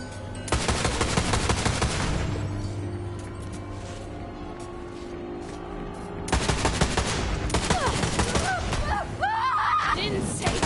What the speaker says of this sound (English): Commencing the shooting!